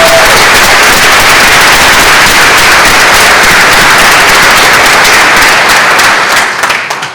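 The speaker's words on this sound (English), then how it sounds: "Please give him a round of applause for his dedication to the students." A high school honors ceremony audience gives a long, loud, dense round of applause for a teacher, sustained clapping that fills the room for about seven seconds before tapering off.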